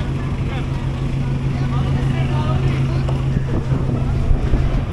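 A fully loaded passenger ferry on the Cebu to Nasipit route moves across open water in the Philippines. Its engine drones steadily at a low pitch under constant wind buffeting the microphone.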